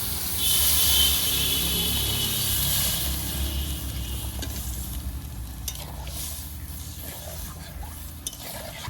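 Fried tomato spice paste in a pan sizzles loudly and broadband for the first few seconds as water goes in, then settles into a steady, softer simmering hiss with faint stirring scrapes.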